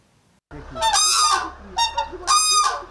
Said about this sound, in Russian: На птичьем дворе настоящий концерт.